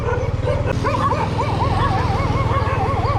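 Dogs yip and whimper in high, wavering cries near a beach shrine to King Taksin in Phala Ban Chang, Rayong, Thailand. The dogs sound close, over a steady low rumbling background.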